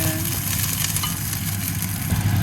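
Butternut squash and potatoes frying in a pan, with a dense, steady sizzle and a low rumbling hum underneath, close and continuous, with no voices.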